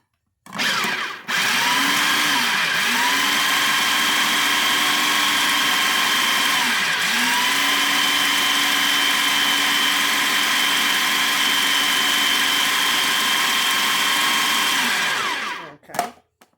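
An electric mixer whirs steadily through figgy pudding batter for about fifteen seconds, its motor pitch dipping briefly as the beaters catch, then switching off; loud, close and free of talk.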